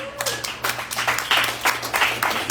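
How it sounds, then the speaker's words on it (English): An audience gives a round of applause at a community event. The dense, steady clapping fills the whole stretch, with a low hum underneath. "Can we get a round of applause, please?"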